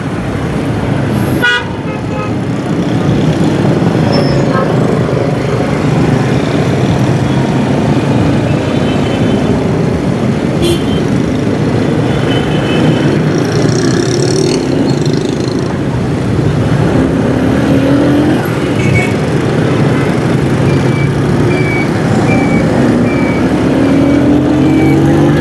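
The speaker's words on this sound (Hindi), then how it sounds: "यहाँ पर यू टर्न है जिसकी वजह से ट्रैफिक जाम है।" Dense road traffic jammed at a U-turn, heard from a motorbike: continuous engine roar and road noise with repeated car horn toots and beeps near and far over about twenty-five seconds.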